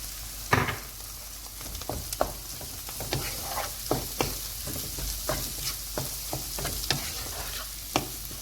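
Egg curry with fresh coriander being stirred in a pan, dhaba style, with a steady low sizzle under a run of sharp spoon scrapes and knocks, close and clear at a loose, uneven rhythm, with no talking.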